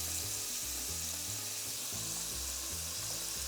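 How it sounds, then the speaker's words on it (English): Spanish tomato sofrito simmering in a pan gives a steady, faint sizzle and bubbling hiss, close and continuous, with no voices over it. "Let it simmer"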